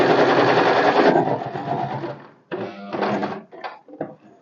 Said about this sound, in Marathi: याला असं पकडणार आणि टक्स मारून घेणार